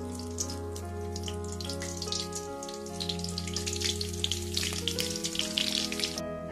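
Chopped onion hits hot oil already tempered with cumin, setting off a crackling sizzle that swells and stays busy, layered over a steady low hum with no talk.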